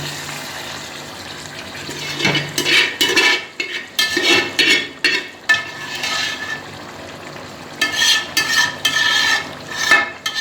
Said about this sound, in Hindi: और इसे मैं भून लेती हूँ।